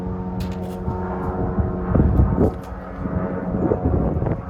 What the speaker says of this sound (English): It's those like single propeller planes going by.